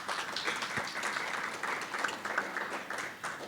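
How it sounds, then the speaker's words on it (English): A business chamber audience gives a round of applause, fairly soft and diffuse clapping that stays even across the stretch with no speech over it. "Put your hands together for it."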